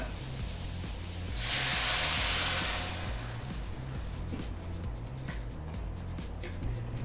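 Water poured into a hot pan of vegetables for sambar gives a loud burst of hissing for a second or two, then settles into steady sizzling crackle close by, with no one speaking.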